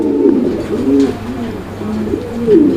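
Fancy pigeons cooing close by as they pair up, several rhythmic throaty coos rising and falling in repeated phrases, loud and clear with little else behind them.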